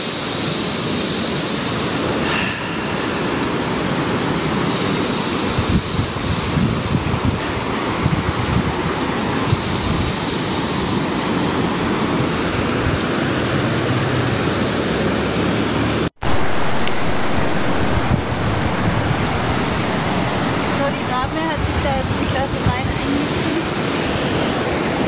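Sea waves on the coast of Sicily in February wash and roar continuously, loud and close, mixed with strong wind buffeting the microphone and a sudden drop out midway.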